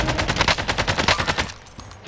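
Rapid automatic gunfire in a video game, a fast rhythmic burst of shots for about one and a half seconds, loud and close.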